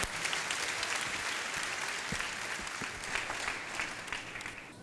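A congregation clapping at a prophecy and miracle church service, sustained crowd applause with sharp individual claps, fairly close and steady, easing slightly toward the end with no talk over it.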